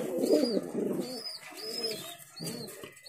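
Fancy pigeons cooing close by in repeated soft, throaty bursts, several calls in quick succession with short pauses between, no talk over them.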